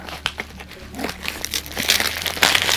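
Wrapping paper crinkles and tears as a Secret Santa gift parcel is unwrapped close by, in a run of irregular rustles and crunches that grows louder toward the end.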